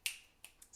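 Four crisp finger snaps close by, quiet and unevenly spaced, each a sharp bright click with a brief tail against near silence.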